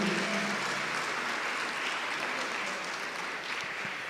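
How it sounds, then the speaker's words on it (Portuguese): A church congregation applauds together, a steady, full wash of clapping that stays loud and even throughout, with no voices over it. "uma grande salva de palmas para o Senhor"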